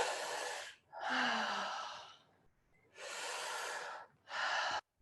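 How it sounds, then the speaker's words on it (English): A person breathing slowly in and out through the mouth during breathwork, with long airy breaths close to the mic and short quiet pauses between them, heard alone without talk. "inhaling through the mouth and exhaling through the mouth"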